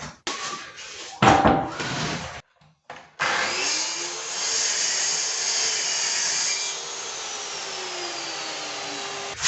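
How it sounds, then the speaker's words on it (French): A plunge saw cuts through Fermacell gypsum fibre floor board for a dry screed, first in brief bursts and then in one sustained, loud, steady whine of the blade biting into the board, with no talking. "C'est pour ça que pour ce type de travail, la scie plongeante, c'est vraiment génial."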